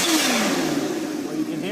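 A supercharged Kawasaki Ninja H2 motorcycle engine revs hard, pitch sliding and rising in a brief burst, with a voice talking over it.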